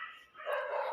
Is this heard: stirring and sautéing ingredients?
no